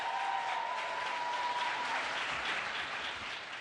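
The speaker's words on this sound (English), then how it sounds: "Can we please applaud Desmond as he walks off the stage?" A crowd at a vice-presidential economic policy event in Charlotte, North Carolina applauds a speaker leaving the stage, steady full clapping throughout that eases slightly near the end.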